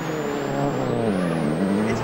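A Ford Focus WRC rally car drives hard and sideways through corners, its engine droning loud and continuous with a shifting pitch, heard up close with no voices.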